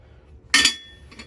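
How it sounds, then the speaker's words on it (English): A single sharp metallic strike rings out close by, followed a moment later by a fainter second tap, as a hammer hits a metal tube on a Nissan Z31 front end. "I'm just gonna hammer it until I create kind of a concave opening"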